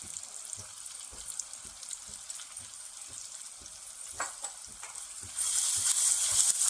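Cooked tomato with turmeric and Agri Koli masala frying in a pan for a crab curry, a steady light sizzle broken by repeated rhythmic stirring taps, growing louder and hissier near the end.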